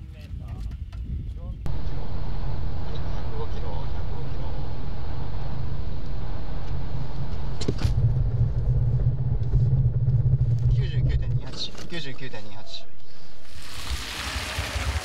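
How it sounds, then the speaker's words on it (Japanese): Nissan Skyline 350GT Hybrid being tested under braking while cornering on a wet surface, heard as a loud, steady low road and engine rumble from inside the car that swells and eases over about fifteen seconds. "スカイラインハイブリッドのウェットの旋回ブレーキです"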